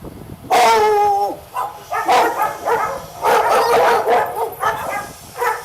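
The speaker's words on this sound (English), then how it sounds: "Now you'll hear the dogs actually start barking." Dogs bark and yelp in a loud, excited burst, starting with a long howling whine and continuing with repeated close barks.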